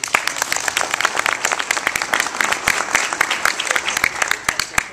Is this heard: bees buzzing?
no